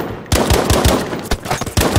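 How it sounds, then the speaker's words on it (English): Gunfire from the Battlefield V multiplayer game on the Rotterdam map in Conquest mode: loud, close bursts of rapid automatic shots with short pauses, repeating through the whole stretch. "Doing all that shooting"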